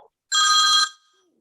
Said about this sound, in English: Somebody's got a phone call.